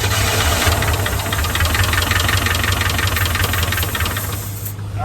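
A 1981 Chevy K10 pickup engine, running for the first time after sitting since 1999, idles loudly up close with a steady low rumble and a rough, knocking pulse that cuts off sharply at the end.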